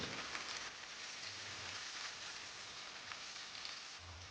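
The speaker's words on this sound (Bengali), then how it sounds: "পেঁয়াজটা হাই ফ্লেমে রেখে 2 মিনিট ভেজে নেব" Chopped onion frying in oil over a high flame for a spicy small-fish curry, giving a soft, even hiss throughout that is faint and steady, with no talk.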